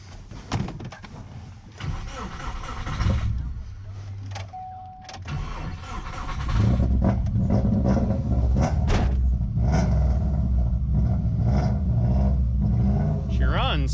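A rallycross car's damaged engine cranks and then settles into a rough, close idle that rumbles steadily through the second half after a crash. A person talks over the earlier part.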